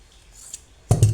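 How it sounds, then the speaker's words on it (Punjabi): Scissors cut through fabric for a flared frock, two short crisp snips close by near the end after a quiet stretch. "ਹੁਣ ਆਪਾਂ ਵਿੱਚੋਂ ਕੱਟ ਦਵਾਂਗੇ"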